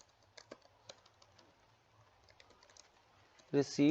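Soft, irregular keystrokes on a computer keyboard while code is being written, a quiet run of scattered clicks before a voice cuts in at the end.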